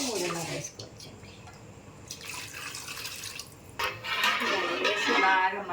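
Water is poured into a pot for red lentil and rice kichidi, a splashing, gurgling stream that grows fuller toward the end, with a voice talking briefly at the start.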